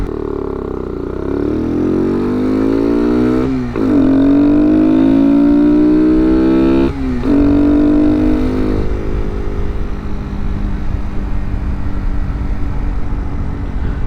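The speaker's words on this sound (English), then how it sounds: "Just having this filter with a stock exhaust, I swear to God, sounds better than any aftermarket exhaust I put on." A motorcycle with a stock exhaust and an aftermarket air filter revs up through the gears, each rise in pitch broken by a quick shift, then drops back to a rough, rumbling idle.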